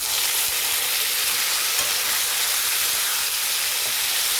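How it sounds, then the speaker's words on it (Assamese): Chopped onions fry in a pan with a steady, even hiss of sizzling oil, close and continuous throughout, with no talking. "মোৰ পিঁয়াজখিনি ভজা হৈ গৈছে।"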